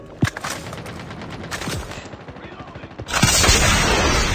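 Gunfire in a battle royale video game, with scattered sharp shots and short bursts, then a louder stretch of rapid firing near the end, and no talk over it.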